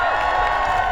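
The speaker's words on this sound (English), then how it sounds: "It's a good rowdy crowd." A rowdy graduation crowd at a secondary school ceremony cheers and whoops in a brief, loud, steady burst of massed voices.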